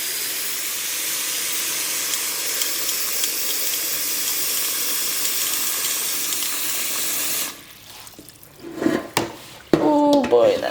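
Water runs hard from a kitchen tap into a pot for vegan soup with chickpeas and passata, a loud steady gushing hiss that stops abruptly, followed by clunks of the pot and a parrot's brief squawks.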